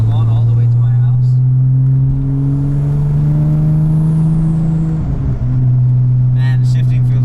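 A Porsche 911 Turbo drives with a loud, steady engine drone that climbs in pitch, dips briefly during a gear change, then settles back into a strong hum, with some faint noise near the end.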